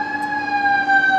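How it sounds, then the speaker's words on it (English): Fire engine sirens wail steadily and loudly close by in a residential neighborhood about a quarter mile from the fire department, a sustained tone heard alone. "Dadgummit, here come more sirens."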